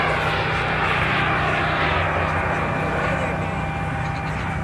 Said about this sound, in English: Both aircraft up over the top. Big loop, throttling back, using the energy for the downside of the loop